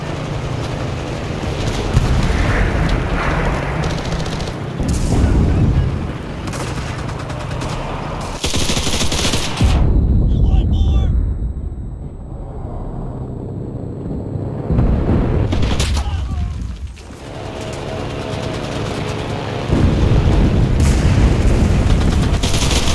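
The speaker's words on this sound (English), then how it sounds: "Incoming! Artillery," Incoming artillery and machine-gun fire in the Enlisted game's Normandy battle, with loud continuous gunfire bursts and booming explosions close by, briefly dropping to a muffled lull before the barrage resumes.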